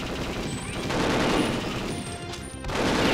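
Enemy guns in the video game Perfect Dark fire dense rapid bursts of gunfire at close range, a continuous rattling barrage with brief pauses over about three seconds.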